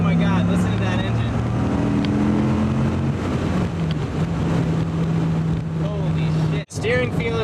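A 1997 Dodge Viper GTS engine drones steadily while driving, a loud low hum with rising and falling pitch that holds throughout, with a brief dropout near the end.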